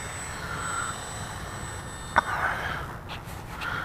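An FMS SuperEZ V2 RC airplane's electric motor with a new propeller runs on a bench test outdoors, giving a faint, steady high whine that fades about halfway through.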